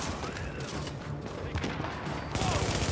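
Dense, continuous gunfire in an online multiplayer shooter video game, a loud wash of rapid shots and crackling noise that runs throughout and swells near the end, with no talking.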